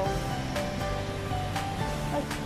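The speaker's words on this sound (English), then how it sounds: "Look at the waterfall." Fuipisia waterfall in Samoa, a steady broadband rush of falling water heard close and loud throughout, with a few brief louder bursts over the constant roar.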